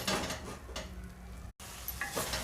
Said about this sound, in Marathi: अजून आपण हे ढवळत राहू